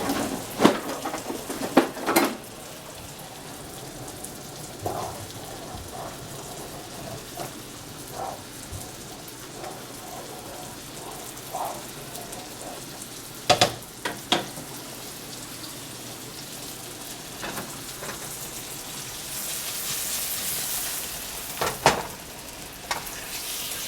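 Chicken fries in a pan with a soft, steady sizzle, marked by occasional sharp clacks and scrapes of a utensil against the pan and a louder burst of spitting oil near the end.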